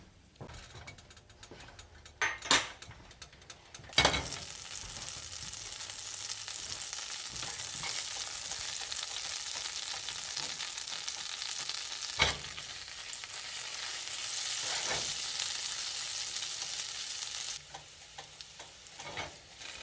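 Garlic fries in foaming butter on a stove burner, a loud continuous close sizzle running for a long stretch, with a few sharp clinks and pan knocks at the start and scattered through.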